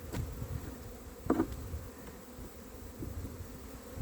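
Honey bees hum around a nuc hive in a soft, steady drone, one bee briefly zipping close and louder about a second in.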